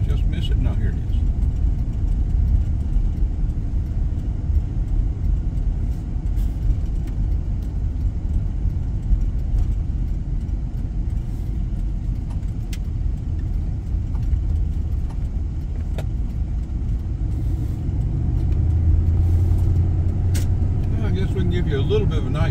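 A car drives along a Georgia highway at night with a steady low engine and road-noise rumble that never lets up, heard from inside the vehicle.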